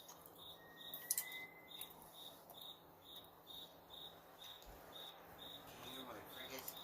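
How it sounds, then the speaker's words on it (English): Crickets chirp in a steady, evenly pulsed high trill, faint and continuous through the night air, with a few scattered brief chirps alongside and no speech. "Can you hear my crickets?"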